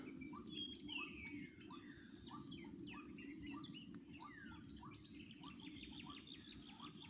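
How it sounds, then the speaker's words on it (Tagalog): Many birds call by the water in Taysan, Batangas, overlapping chirps and sweeping whistles filling the air above a constant low rush and insect buzz, faint and without talk. "Daming ibon guys."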